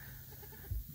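A goat gives a short, faint bleat close by, wavering in pitch, with a soft thump near the end.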